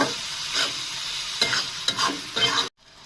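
Salted hilsa frying with onions in a pan, steady close sizzling broken by repeated scraping stirs of a spatula, then cutting off abruptly near the end, with no voices.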